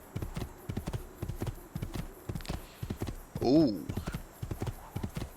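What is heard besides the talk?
horse hooves clip-clopping in video game Assassin's Creed II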